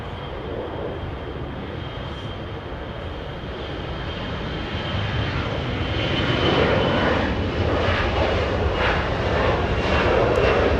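Airplane departing from Los Angeles International Airport, a steady engine roar that gradually grows louder and fuller, heard from a distance with no talk over it.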